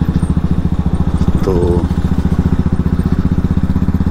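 Royal Enfield motorcycle engine thumping in a steady, rapid rhythm while riding near Trimbakeshwar temple, loud and close, with a voice briefly speaking over it.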